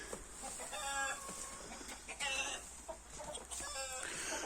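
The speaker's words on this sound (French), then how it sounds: "Des petites poules cayennes." Several small Cayenne hens cluck and squawk in short bursts close by, with brief pauses between their calls and no one speaking.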